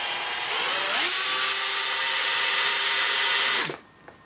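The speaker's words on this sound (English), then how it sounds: "I'm just going to drill through here and then put a self-tapper in" A power drill whines at high speed drilling through plastic, its pitch rising as it bites in, then winds down and stops near the end.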